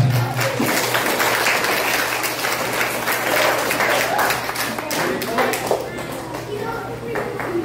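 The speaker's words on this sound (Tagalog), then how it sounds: "Sa malakas na palakpak para sa akin." A church congregation at a family worship service bursts into loud, dense applause with scattered sharp claps, and voices carry over the clapping throughout.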